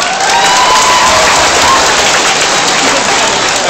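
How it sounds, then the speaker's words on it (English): Loud, dense audience applause at a live music concert, a continuous wash of many hands clapping at full strength with faint cheering mixed in. "so hand of applause for them"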